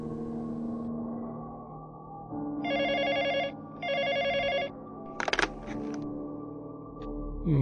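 An old-style telephone bell rings in two bursts for a horror radio drama, set against a quiet, low background. A short clatter follows the rings, and no one speaks.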